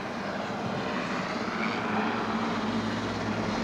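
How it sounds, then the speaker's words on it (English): The presidential helicopter flies low over a cemetery while coming in to land at a field in Ballyporeen, Ireland, giving a steady, moderately distant engine roar with rotor throb throughout. "The helicopter has flown low over the cemetery."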